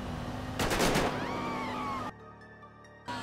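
Video game gunfire in a bursty volley of rapid shots, loud and close, followed by a sustained mechanical drone with a high whine, no talk over it.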